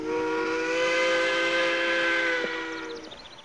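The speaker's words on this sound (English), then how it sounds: "there's nothing that stirs my imagination like the sound of a steam locomotive. That lonesome whistle cutting through the night" A steam locomotive's whistle sounds one long, steady, loud blast with rich layered tones, heard alone before it drops off near the end.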